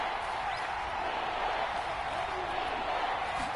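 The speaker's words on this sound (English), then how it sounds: "That just means this crowd's going to get even louder" Stadium crowd noise in a PS4 football video game, a steady dense roar of cheering fans at an even level throughout.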